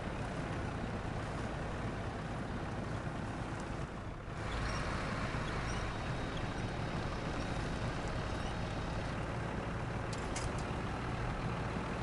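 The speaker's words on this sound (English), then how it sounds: "This truck is not happy that it has a flat tire." Heavy truck engine in SnowRunner, the rig running on a flat tire through deep water, a loud steady droning rumble with a brief dip midway, continuous and unaccompanied by talk.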